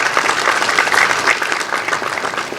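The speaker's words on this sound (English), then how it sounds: "Can we have a big round of applause so that the energy also goes high?" Audience applause fills a hall at the inauguration session of an energy conference, a dense, steady burst of clapping lasting a few seconds at fairly loud level with no talk over it.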